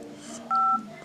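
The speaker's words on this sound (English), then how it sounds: "I'll just like to dial and see what inside the SIM card." Mobile phone keypad tones while dialing a balance-check code, one short clear beep from a single key press, close and isolated against faint background.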